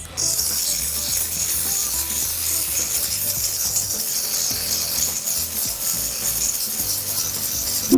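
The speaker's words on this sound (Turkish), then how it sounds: "Bunun için zımpara kağıdı kullanacağız." Steady, continuous rasping of sandpaper rubbing back and forth on a wooden model rocket, close and even for the whole stretch, with no talking.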